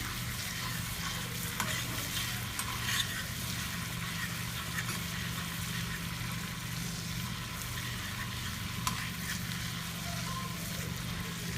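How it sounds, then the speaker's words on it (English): A mixture toasting in a pan for sweet potato stacks, a soft steady sizzle with occasional light stirring scrapes and clicks, fairly quiet and even throughout. "we're going to give this another stir"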